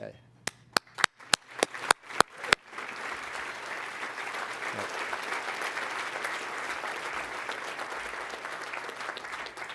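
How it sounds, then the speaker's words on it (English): At a State of the City 2024 address, an audience greets the mayor with applause: a few sharp, separate claps first, then a dense, steady wash of clapping that carries on evenly to the end. "I'd like to everyone to give her a loud round of applause"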